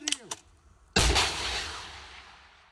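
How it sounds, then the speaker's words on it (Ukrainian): A single loud gunshot or artillery-style blast at a frontline position, a sharp boom with a long rumbling decay after a few faint earlier thuds. "Постріл!"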